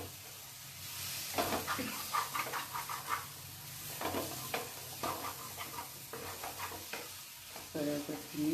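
Soya chunks frying and being stirred in a pan, with steady sizzling and repeated scraping strokes in bursts, fairly close and moderately loud, with no talk.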